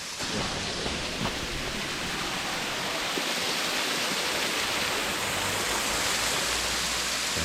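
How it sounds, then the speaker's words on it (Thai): Water mist sprays from a waterfall-like feature at a shrine, giving a steady, dense hiss that fills the scene evenly with no voices. "นี่มีละอองน้ำออกมาแบบฟุ้งๆเลยเข้ากับบรรยากาศมากนะครับ"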